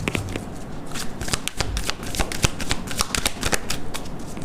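A deck of oracle cards is shuffled by hand, a steady run of crisp riffling flutters and taps lasting several seconds, close and clear with no talking.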